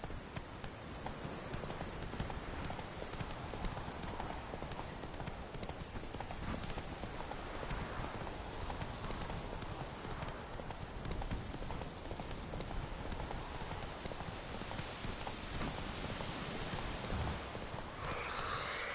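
Steady hoofbeats of a horse at a run in The Witcher 3 video game, a continuous rapid clip-clop filling the whole stretch, with a faint rain-like hiss beneath and no talk.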